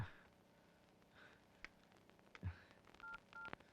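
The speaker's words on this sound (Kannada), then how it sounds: "ಮೃದುಲಾಗಿ ಫೋನ್ ಮಾಡು, ಹೋಗು." A few short electronic dialing tones beep in quick succession near the end, after quiet rustling and a soft breath.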